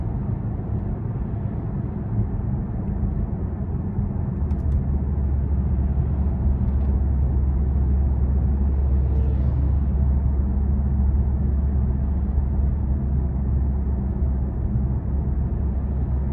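A 2018 BMW M550xi cruising with a steady low engine hum and constant road and tire rumble inside the cabin, smooth and unbroken throughout.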